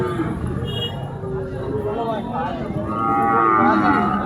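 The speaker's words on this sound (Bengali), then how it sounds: "দেখতেই পাচ্ছেন যাকে গরু যাচ্ছে" Cattle lowing at a busy cattle market, several drawn-out moos close by over a babble of voices and people talking nearby.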